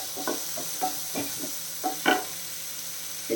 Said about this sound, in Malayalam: ഇതിപ്പോൾ ഞാൻ മീഡിയം സൈസ് ഒരു സവാള ചേർത്തു, അത്രയേ ഉള്ളൂ. ഇതൊന്ന് വഴണ്ട് കിട്ടണം.